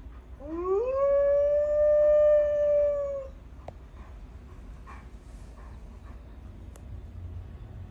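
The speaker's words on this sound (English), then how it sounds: "Here's a wolf howl." A timber wolf howl plays from an Amazon Alexa smart speaker: one long, clear rising then steady wail lasting nearly three seconds, followed by quiet room noise with faint small sounds.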